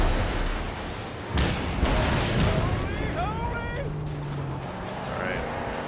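Explosive harpoons fired in the Mad Max video game: a sharp blast followed by a rumbling roar and scattered whistling debris, loud within constant engine-like game noise.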